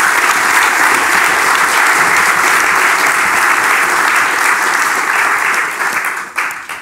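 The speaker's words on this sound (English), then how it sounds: "a big applause for Roosje" Audience at a graphic design and activism talk claps loudly and steadily for a departing speaker, a dense wash of applause that holds for several seconds before thinning out near the end.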